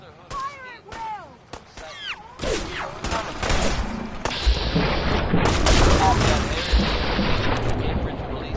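Gunfire and explosions in the video game Fallout 4, Far Harbor, in survival mode: a fast burst of shots, then a dense, loud, steady barrage with booms, with a voice calling out near the start.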